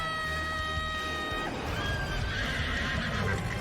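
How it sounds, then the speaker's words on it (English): A horse in a Fate anime fight scene gives a loud, drawn-out neigh with a high wavering whinny, followed by clattering hooves and battle noise. "She just pulled out a horse."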